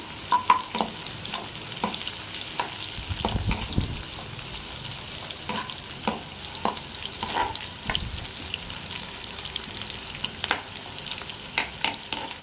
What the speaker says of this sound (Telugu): ఆనియన్ వేసుకున్న తర్వాత పచ్చిమిర్చి, ఒక్క పచ్చిమిర్చి అండి, 4 చీలికలు చేసాను దీన్ని.